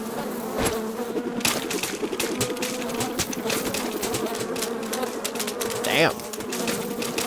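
A dense swarm of bees buzzes steadily and loudly in Metal Gear Solid Delta, with a brief spoken word partway through.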